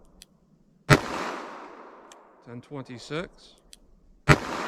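.44 Special Buffalo Bore Barnes TAC-XP rounds fired from a handgun, two sharp, loud gunshots a few seconds apart, with someone speaking briefly between them.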